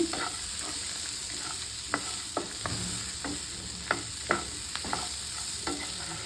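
Byadgi red chillies frying in a pan, a steady close sizzle with sharp clicks and scrapes of stirring at irregular intervals, no voices over it.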